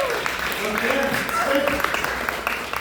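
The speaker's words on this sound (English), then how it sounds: "Round of applause." Audience applause at a stand-up comedy show, a brief burst of clapping from the crowd with talking and chatter mixed in over it, lasting a few seconds.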